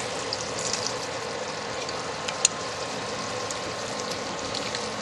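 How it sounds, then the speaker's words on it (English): Cornstarch goes into a pan of tender vegetables for sweet and sour pork, giving a steady, fairly loud sizzle and frying hiss throughout with a brief sharper clink midway and no talking. "Let's pour in that cornstarch."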